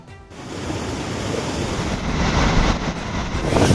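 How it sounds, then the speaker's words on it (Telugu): Floodwater rushing through the overflowing Dundubhi stream in Mahabubnagar district after two days of heavy rain, a loud, continuous roaring wash of water with wind buffeting and building slightly toward the end. "దుందుభి వాగు పొంగి ప్రవహించింది"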